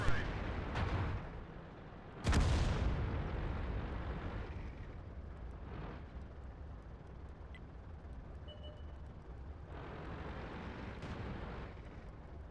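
Tank gun firing in World of Tanks on the Steppes map, two heavy booming shots a couple of seconds apart, the second louder with a long rumbling decay, followed by quieter distant game effects.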